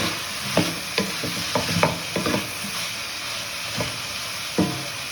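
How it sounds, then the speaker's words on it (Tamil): Bell pepper, corn and broccoli sauté in a hot pan with a steady sizzle and hiss, while a spatula scrapes and stirs in sharp, irregular knocks every second or so. "இப்போ குடமிளகா, கார்ன் எல்லாத்தையும் போட்டுக்கலாம். வதக்கி விடலாம்."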